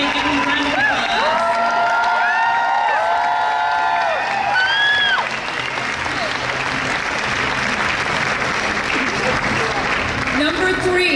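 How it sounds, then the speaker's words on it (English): A convention crowd at C2E2 applauds and cheers cosplayers in a costume contest, with whoops and shouts rising over steady clapping; a voice on a loudspeaker speaks over the noise at the start before the applause swells and fills the room. "Everybody, give them a round of applause."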